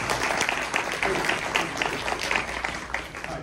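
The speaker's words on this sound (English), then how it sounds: "Give yourself a round of applause" A packed crowd at a regional economic development gathering claps together, a loud, dense burst of applause with some voices mixed in, sustained for a few seconds.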